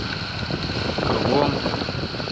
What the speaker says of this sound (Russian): Идем под мотором